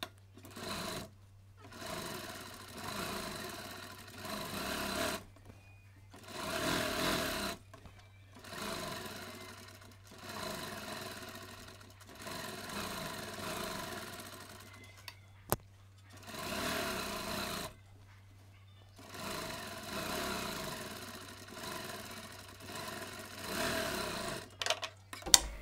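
Sewing machine stitching piping for a blouse, running in several bursts of a few seconds each with short pauses between, steady and close, with no talking.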